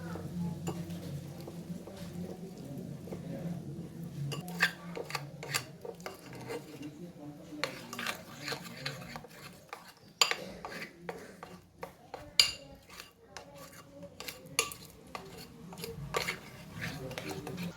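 A spoon stirs banana bajji batter as water is added little by little, making soft, continuous rasping and scraping against the bowl with occasional light clinks, fairly faint throughout.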